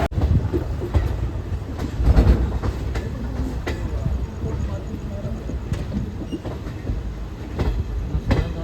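A passenger train on the Mumbai to Solapur line rumbles steadily along the rails with rhythmic clicks and clanks, heard from inside the coach while people talk in the background.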